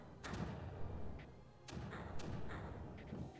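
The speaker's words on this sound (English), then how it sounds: "I've got lots of mortars, just kind of pounding on them to keep them clean." Mortar shells land in the video game Creeper World as a series of soft, muffled thumps at an uneven pace, fairly quiet and close, with light clicks between impacts.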